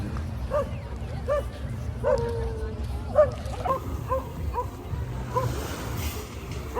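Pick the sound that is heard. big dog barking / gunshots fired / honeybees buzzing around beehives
big dog barking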